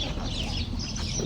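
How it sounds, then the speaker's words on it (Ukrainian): Hens clucking softly in a steady, busy background murmur of farmyard noise at a donkey farm in Lefkara, Cyprus, fairly close, with no clear talk over it. "А это курочки."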